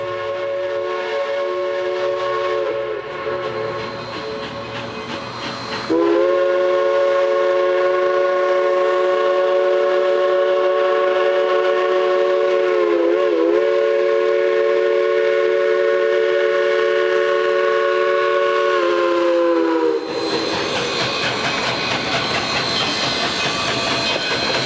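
The Silverton narrow-gauge train, a 1972 special, pulls out of Durango across Main Street and Camino del Rio, its whistle sounding one long, loud, sustained blast of about fourteen seconds that wavers briefly midway, with rail and engine noise before and after.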